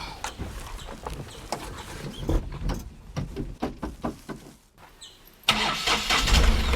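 A car that had trouble starting cranks and then catches near the end, breaking into a loud, close rumbling idle. Before that come faint knocks and outdoor noise, with birds in the background.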